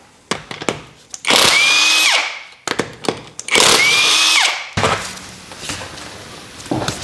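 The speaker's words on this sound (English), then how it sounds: "I got a 21mm socket. I've already loosened these up with a breaker bar. I'll just go ahead and spin them off and remove that wheel." Impact tool with a 21mm socket spinning lug nuts off a Nissan Pathfinder front wheel: two loud whirring bursts that rise in pitch, each about a second long, separated by clinks of nuts and socket, then rustling handling noise.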